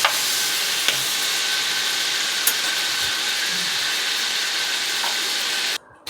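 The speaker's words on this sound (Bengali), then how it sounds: "আলুটা ভাজা হয়ে গেছে" Potato pieces fry in a pan with a loud, even sizzle and hiss, broken by a few sharp scraping stirs, and then cut off near the end.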